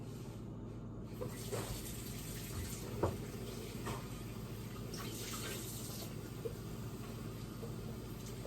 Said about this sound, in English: So I'm just going to wash these up.